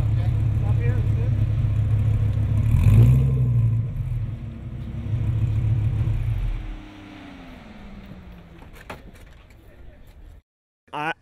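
Dodge Viper race cars on a cool-down lap at Pocono Raceway give a loud, deep engine rumble that swells as a car passes close by, then drops to a softer, more distant drone before near silence.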